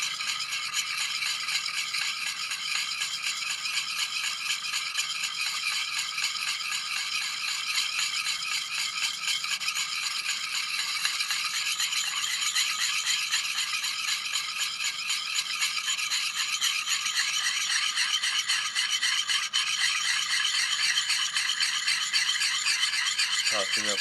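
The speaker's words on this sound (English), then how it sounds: "Polishing up the last part here." An axe bevel is polished during field sharpening: a steady, close rhythmic rasping and scraping of stone on steel continues without pause for the whole stretch.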